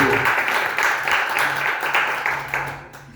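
A church congregation applauds during a worship service. The clapping is steady and fairly loud, runs continuously throughout, and has voices and a faint tonal background mixed in.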